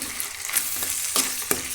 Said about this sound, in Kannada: ಈರುಳ್ಳಿ ಜೊತೆ ಸ್ವಲ್ಪ ಉಪ್ಪು ಸೇರಿಸಿದ್ದೀನಿ ಫ್ರೈ ಮಾಡೋಣ